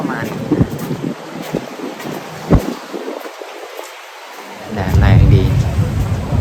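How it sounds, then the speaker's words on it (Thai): Wind at the seaside in the evening, rough gusts buffeting the microphone with loud low rumbling that drops away briefly and then surges back strongly, with a voice heard under the noise. "ลมเย็นสบาย"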